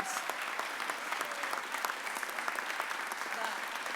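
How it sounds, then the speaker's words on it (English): An audience at a mayor's press conference applauds Amy Williams, a sustained patter of many hands at moderate distance, steady and fairly soft, with a faint murmur of voices underneath. "Can we clap it up for Amy Williams?"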